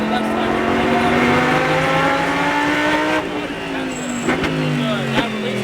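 A Lamborghini Super Trofeo race car on a track in Las Vegas, its loud engine droning and rising in pitch as it accelerates, then dropping through gear changes, heard up close from inside the car with a voice talking over it.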